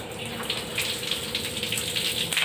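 Water running from a tap while hair is wetted for washing, a steady close gush with small splashy fluctuations and no talking.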